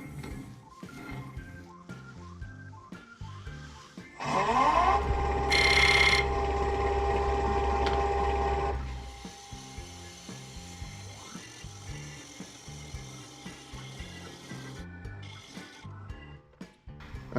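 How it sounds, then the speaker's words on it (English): Wood lathe turning a padauk bowl: a loud, steady whir with a rough cutting tone starts partway in, holds for several seconds, then drops back to a low background hum with faint scraping and knocks. "Just going to start turning from about here toward the outside."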